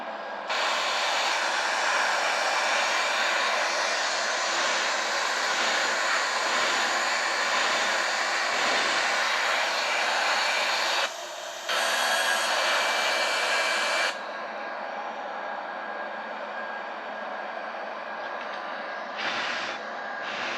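Airbus A320 jet engines in Microsoft Flight Simulator during a climb, a steady loud broadband roar that drops out briefly then continues at a lower, slightly quieter level, with no talking.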